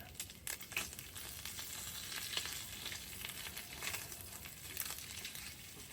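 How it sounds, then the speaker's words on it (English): Bacon sizzles steadily in a frying pan over a camp stove, a soft crackling hiss with scattered pops throughout, fairly quiet and without talk. "Oh yeah, I can start to hear that bacon sizzle."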